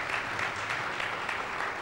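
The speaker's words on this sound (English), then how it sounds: "a round of applause for our audience" Audience applause, a steady dense patter of many hands clapping at a summit panel, loud and continuous with no pauses.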